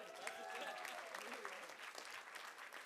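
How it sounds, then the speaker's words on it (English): Guests at a wedding reception break into applause, a steady, even patter of many hands clapping together that holds without letting up, with some faint tonal sound early on. "Let's give him a big round of applause."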